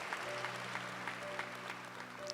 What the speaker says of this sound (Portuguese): Vamos aplaudir aí agora, aplauda forte.